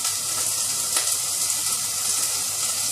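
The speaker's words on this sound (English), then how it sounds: "I'm going to crush our garlic in there as well" Crushed garlic sears in a hot pan, giving a steady, loud, close sizzle that holds without pause.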